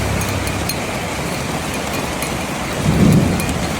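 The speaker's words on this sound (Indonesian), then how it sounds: "Waduh, hujan lah" Steady heavy rain pours down, with a deep rumble of thunder swelling near the end.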